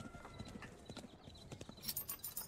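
Horses galloping in the strategy game Thronefall, a quick clip-clop of many hooves that is fairly quiet and continuous, with a brighter clatter toward the end.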